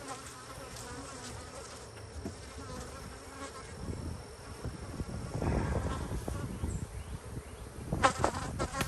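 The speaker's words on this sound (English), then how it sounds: "I'm gonna shake those bees from here back down in here" Honey bees shaken from hive frames at an apiary buzz in a dense, steady swarm close by, the drone swelling louder with bursts of movement toward the end.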